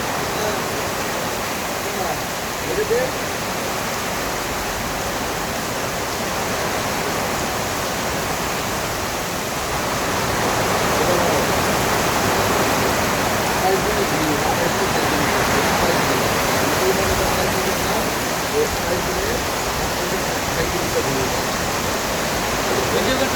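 Heavy rain pours down in Konabari in a dense, continuous roar that swells louder midway and holds steady throughout.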